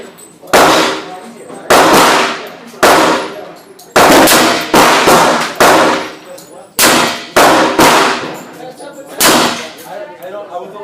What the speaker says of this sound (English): let's go to the range and shoot the Bill Davis revolver.